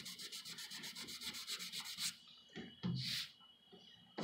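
Sanding out a run in automotive clearcoat on a car, with a steady rhythm of close, scratchy back-and-forth strokes for about two seconds, followed by a few separate rubs and a sharper scrape.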